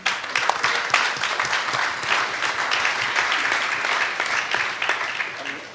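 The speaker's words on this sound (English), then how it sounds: "Please give a big round of applause" A conference audience gives a round of applause for a regulation panel at a blockchain forum. The clapping is loud, dense and sustained, with a faint crowd murmur underneath, and it fills the hall.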